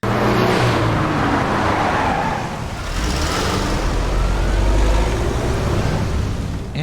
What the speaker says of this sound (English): your minivan Tokyo drifting into a parking spot to pick you up